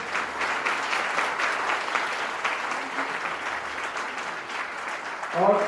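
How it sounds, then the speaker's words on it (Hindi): Applause at an education seminar as a top-ranking student is welcomed: a sustained crowd clapping over several seconds, with a voice briefly calling out near the end. "जोरदार तालियों से स्वागत करें"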